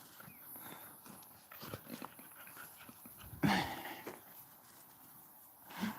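On a hot day a puppy pants softly and shifts about, giving quiet breathing and small movement sounds with a brief louder burst partway through. The sound is faint overall, with no talking.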